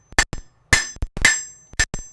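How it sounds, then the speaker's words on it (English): A hammer strikes hot metal at a smithy forge, a series of sharp ringing blows in an uneven rhythm, loud and close with metallic overtones. "I forgot to grab the other hammer"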